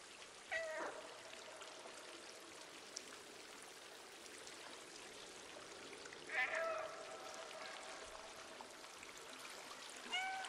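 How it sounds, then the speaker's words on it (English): A cat meows several times in the video game Stray, short high cries at the start, around the middle and at the end, over a steady trickling water ambience. "Why is he meowing like that?"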